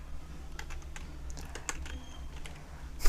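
Python code is typed on a computer keyboard for a Pygame space shooter game: quiet, irregular clusters of keystrokes tap away alone, ending in a louder clatter of keys.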